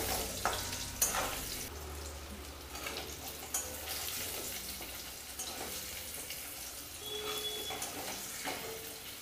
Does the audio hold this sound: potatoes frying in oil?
yes